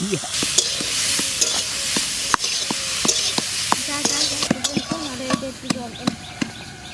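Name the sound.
cauliflower being lightly fried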